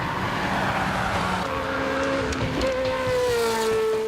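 Racing cars climb a twisty two-kilometre hillclimb course up Simola Hill at Knysna, engines roaring loudly with rising and falling pitch as they accelerate, with some tire noise and no talking.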